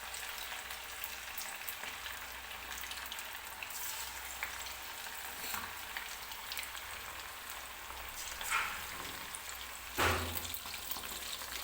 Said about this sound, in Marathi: तर 3 ते 4 मिनिटं मी एका बाजूने चिकन जे आहे ते फ्राय करून घेतलेले आहे